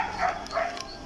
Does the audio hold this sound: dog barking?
yes